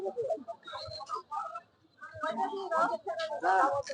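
Chickens and ducks at the Kendrapukur village market cluck and squawk in short bursts, mixed with close voices of people talking amid busy market bustle.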